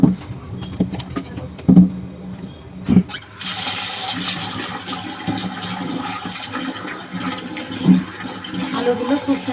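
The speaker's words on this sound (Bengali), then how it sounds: "আলুগুলো খুব সুন্দর করে ধুয়ে নেব, ধুয়ে সিদ্ধ দিব" Potatoes being rinsed and scrubbed in water in a home kitchen before boiling for mash, with sloshing and splashing running steadily and close, a louder surge of water after a few seconds, and occasional knocks.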